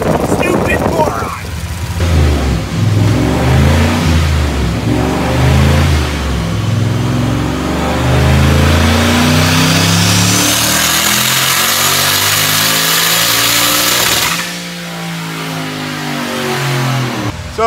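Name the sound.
turbocharged car engine revving on a dyno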